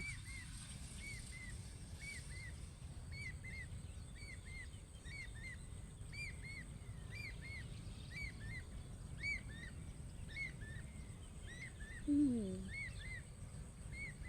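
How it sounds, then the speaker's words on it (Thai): A small bird repeats short, bright chirping phrases at a steady pace over a constant outdoor hiss beside a field of rice mixed with grass, with a brief louder rustle near the end. "เสียงนกร้อง"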